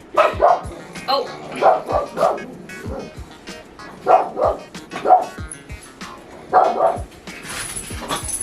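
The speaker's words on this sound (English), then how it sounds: "So you might hear some barking from time to time." Pug barking in repeated short bursts, fairly close and loud, with yips and whimpers between them in a home in a busy city; a person talks briefly.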